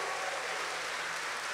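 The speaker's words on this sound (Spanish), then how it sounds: "Dese un aplauso en esta tarde" Audience applause at a church testimony gathering, a steady dense wash of clapping that fills the whole moment without pause.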